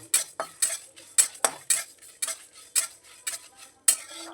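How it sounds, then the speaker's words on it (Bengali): Cumin and coriander seeds dry-roast in a pan, with a spoon scraping and tapping the metal in a quick, regular rhythm of about a dozen crisp strokes and no voices. "দিয়ে দিলাম জিরে আর ধনে, ভাজা ভাজা করে নিয়ে এটা আমি গুঁড়ো করে সাইডে রেখে দেবো।"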